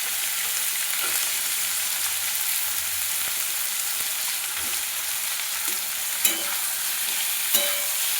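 Potatoes frying in oil for a cauliflower curry, a steady bright sizzle with a couple of sharp scrapes of stirring, close and continuous.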